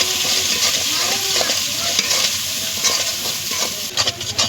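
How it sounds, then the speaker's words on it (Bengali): Chili powder and turmeric masala being stirred and fried in a pan for chicken ghugni, with a steady close sizzle and repeated scraping stir strokes throughout. "সমস্ত মশলাটা আবার ভালো মতো কষাবো।"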